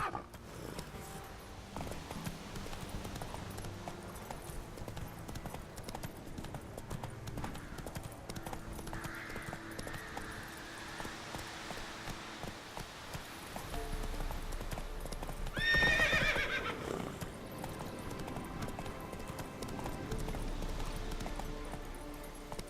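Roach, the horse in The Witcher 3, gallops with steady, rapid clip-clop hoofbeats over game music, and a whinny breaks through near the middle, louder than the rest.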